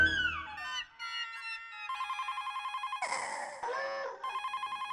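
A telephone rings in repeated electronic bursts, loud and close, with no talk over it, in a Hindi TV comedy scene set in a housing society.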